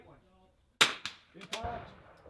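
A .22 rifle fires one sharp crack during an NRL22 precision match, followed by a second crack and a faint ring from the target. Quiet speech is audible just before the shot.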